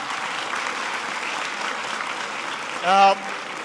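Steady applause from a high school audience fills the whole stretch, broad and even, with a brief tonal voice-like burst rising near the end.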